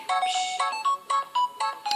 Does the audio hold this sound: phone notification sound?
yes